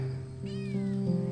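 A cat gives one drawn-out meow, close and clear, rising and then falling over about a second, with no talk over it.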